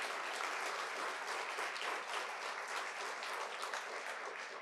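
A room full of listeners applauds at a county government forum, dense and even clapping that holds steady for several seconds with no voices over it.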